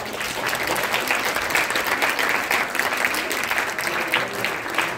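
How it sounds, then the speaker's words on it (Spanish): Audience applause after a school certificate presentation at a talk, a sustained wash of many hands clapping at moderate distance, with faint voices underneath. "Un aplauso, por favor."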